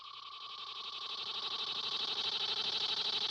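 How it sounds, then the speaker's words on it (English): Cicada call in a video game: a loud, sustained buzzing drone with a fast pulsing rhythm, swelling slightly in volume and running unbroken, alone without speech. "there's the cicada."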